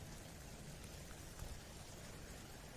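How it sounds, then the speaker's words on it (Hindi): Heavy monsoon rain falls in Mumbai as a constant, dense hiss with no break, fairly soft and distant, with no one speaking. "आज बहुत तेज बारिश आ रही है"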